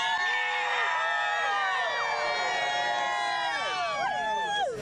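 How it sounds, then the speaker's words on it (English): A dense crowd gathered outdoors for the 2017 total solar eclipse whoops and cheers continuously, many overlapping excited voices and shouts filling the air at close range. "The crowd's getting really excited too."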